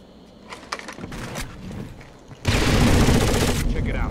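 A frag grenade blast in Rainbow Six Vegas 2 Terrorist Hunt, a loud sustained explosive roar kicking in midway after scattered clatter and gunfire, close and dominant.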